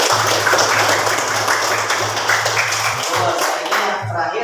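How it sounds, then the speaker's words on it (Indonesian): Classroom audience clapping hands together in a dense, steady burst that carries loudly throughout, with a voice murmuring underneath near the end. "Tepuk tangan."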